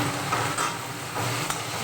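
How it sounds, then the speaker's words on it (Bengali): Green peas frying in a home pan with turmeric and green chilli, giving a steady, close hiss of sizzling oil with faint stirring throughout. "মটরশুঁটিটা আমার ভাজা ভাজা হয়ে গিয়েছে"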